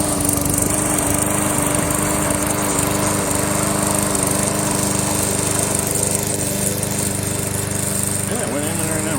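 A remote control lawn mower drives over grass with a loud, constant engine roar and blade whine throughout, steady and close. A voice in the background is faintly audible.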